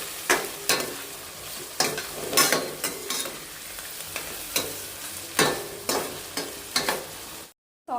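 Onions being mixed and fried in a pan for chicken fry, a low sizzle broken by sharp scraping stirs and clacks of the spoon at irregular intervals, close, with no talk and a brief cut to silence near the end.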